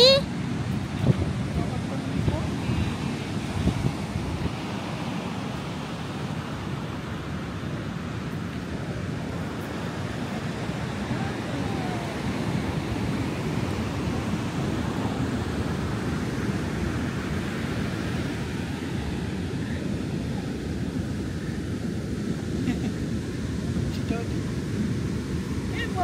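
Steady surf washes in at a beach in the Philippines, a continuous broad rush of waves with some wind buffeting, fairly soft and even throughout.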